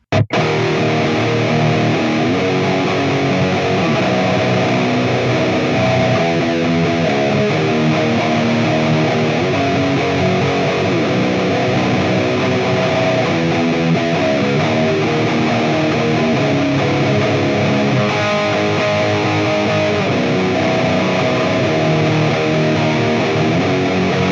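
Dense, distorted electric guitar riffing over a full band, loud and continuous for the whole stretch, with no one speaking.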